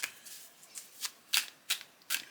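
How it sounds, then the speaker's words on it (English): Tarot cards are shuffled by hand in a quiet room, with about six quick, crisp riffling bursts close to the listener. "I've shuffled enough, I think."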